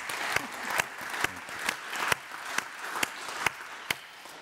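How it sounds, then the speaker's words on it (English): A public lecture audience applauds steadily, a dense wash of clapping punctuated by a few sharper, louder claps at regular intervals. "I saw some clapping and I agree."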